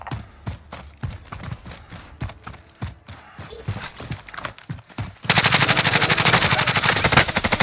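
Gunfire in the Call of Duty Warzone battle royale game: separate sharp shots with footstep-like thuds, then a sudden dense burst of rapid automatic fire, loud and close.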